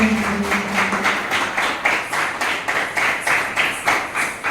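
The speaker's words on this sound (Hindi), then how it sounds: "तालियों की गड़गड़ाहट।" An audience at a teachers' honour ceremony claps in a steady, rhythmic beat, each clap evenly spaced and fairly loud, with no talk over it.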